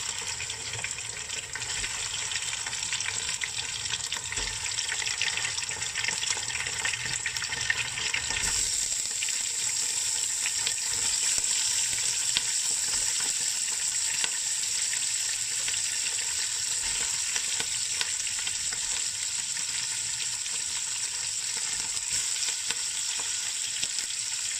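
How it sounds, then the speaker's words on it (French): Pieces of already boiled meat fry in a hot pot with a continuous, even sizzle and crackle, a steady broadband hiss that carries on unbroken, with no voices present. "Quand elle est bien chaude, la marmite, nous faisons revenir notre viande, nos morceaux de viande déjà bouillis."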